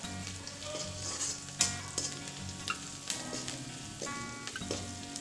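Onions with carrot, cauliflower and peas frying in a pan with a pinch of turmeric, a steady close sizzle broken by several scraping stirs of a spoon, with no voices.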